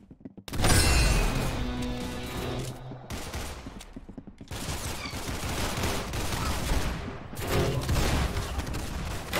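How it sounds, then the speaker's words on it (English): Rapid gunfire from the Roblox shooter Arsenal, dense volleys and bursts of shots with crashing impacts, loud and close, continuing with brief gaps throughout and no talking. "That's some beautiful shooting right there."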